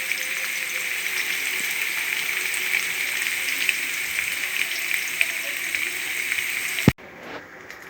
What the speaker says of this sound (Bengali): দেখো পনিরগুলো ভাজা হচ্ছে